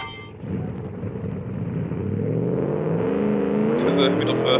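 A muscle car engine in the driving game BeamNG rises from idle into a low, muffled rumble that builds steadily, with a voice talking over it.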